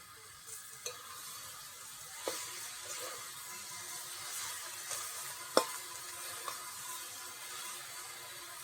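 Cabbage sautéing with salt and turmeric for a vegetarian dish, a soft steady sizzle with a few sharp clicks of a spoon scraping the pan, no talking.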